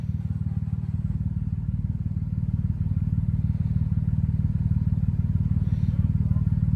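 A Gator utility vehicle engine runs close by at a steady idle, a loud, even low throb that holds unbroken for nearly seven seconds.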